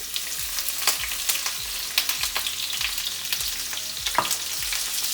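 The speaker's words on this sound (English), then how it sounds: "Then I will add the sliced onions." Sliced onions hit smoking-hot oil for a winter squash stir fry, a soft crackling sizzle with repeated low knocks and scrapes as they are moved around the pan, no voices.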